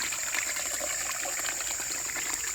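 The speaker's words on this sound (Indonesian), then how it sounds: "Cuci tangan. Airnya tuh bening." Hands are washed in a clear forest stream near an oil palm plantation, giving steady close splashing and trickling water with no pauses.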